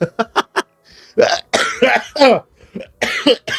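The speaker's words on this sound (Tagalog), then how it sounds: "inuubo pa rin po tayo hanggang ngayon" A few short coughs and throat-clearing sounds alternate with a person talking, close and fairly loud.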